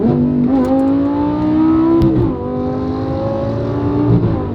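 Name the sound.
car accelerating hard in a pull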